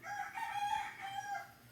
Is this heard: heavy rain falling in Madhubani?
no